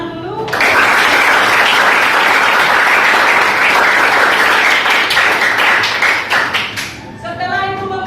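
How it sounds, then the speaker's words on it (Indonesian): A classroom of students applauds together, loud, dense clapping that holds steady for several seconds before thinning out toward the end, with a few voices mixed in. "Kita tepuk tangan dulu."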